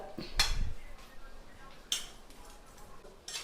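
A spoon stirring brinjal curry in a pan, giving a few sharp metallic clinks and scrapes spaced about a second apart, fairly quiet and close, with faint background noise between.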